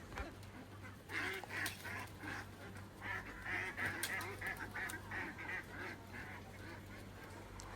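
Ducks and other fowl at a live poultry market in Ajman give faint, repeated honking quacks over a low steady background hum.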